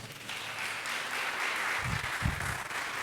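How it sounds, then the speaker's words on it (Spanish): An online church service congregation gives a broad, fairly soft round of applause, with a couple of louder low thumps partway through. "Denle un fuerte aplauso al Señor."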